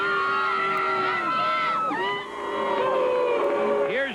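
Stadium crowd at a Dodgers vs. Braves ballgame booing Alex Rodriguez, a dense, sustained roar of many voices with rising and falling jeers that dips briefly midway before swelling again.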